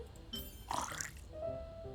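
Wine pours into a drink in Genshin Impact, giving a short, soft liquid splash and trickle with a few drips, close and clear over a quiet background.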